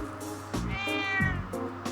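A cat meows in the video game The Legend of Heroes: Trails of Cold Steel, giving a couple of short, clear, close mews over quiet game background sound.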